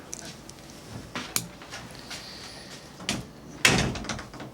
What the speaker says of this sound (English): just close the door, would you?